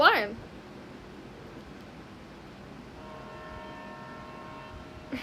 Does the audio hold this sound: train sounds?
yes